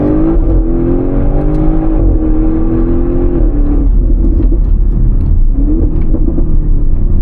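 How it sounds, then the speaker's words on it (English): A 2017 Audi RS6 C7 twin-turbo V8 with a factory Akrapovič titanium exhaust drones loudly and steadily, its pitch rising and falling through revs as it is driven, heard from inside the car with no talk. "It also has an Akrappvič factory exhaust back there. That's why it sounds this crazy."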